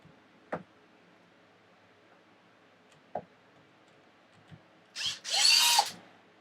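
A small power driver removes tiny screws from an Arrma Limitless RC car, with a few faint isolated clicks followed by a short, louder burst of motor whirring near the end.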